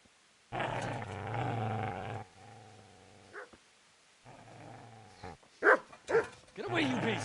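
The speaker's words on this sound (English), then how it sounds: "Get away, you mutt!" A dog in the medieval video game Kingdom Come: Deliverance growls in long low bursts and then gives sharper barks and whimpering yelps, with pauses in between and someone shouting at it.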